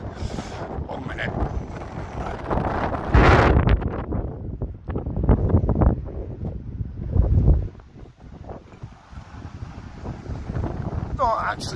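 Wind gusting across the Blackpool seafront between Gynn Square and Bispham, buffeting the microphone with loud, rough rumbles that rise and fall, and someone talks over it now and then.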